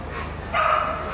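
A single short bark from an Australian Shepherd in a dog show ring, heard over a steady hum of crowd and hall noise.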